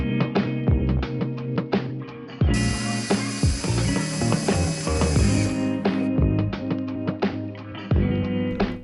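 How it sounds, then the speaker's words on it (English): A Xiaomi Mijia cordless rechargeable electric screwdriver drives screws while mounting a bracket, giving a loud, close mechanical whir with clicking and ratcheting that runs continuously, including one stretch of harsher buzzing in the middle. "it was a very pleasant change to have the electric screwdriver to finish the bracket mounting, rather than doing it by hand"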